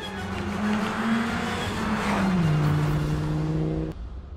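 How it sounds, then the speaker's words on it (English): A 1994 Audi RS2 Avant estate car drives past close by, its steady engine drone dipping slightly in pitch as it goes, loud and with no other sounds, then cutting off abruptly. "1994 Audi RS2 Avant, the world's first truly high performance luxury estate car."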